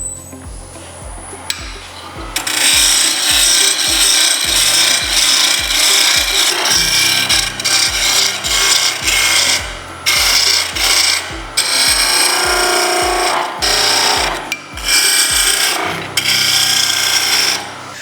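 A wood lathe spins a carving mallet handle while a gouge shapes it, giving a loud, continuous scraping and rasping over a steady rhythmic thump of the turning workpiece, with cutting surges that rise and ease.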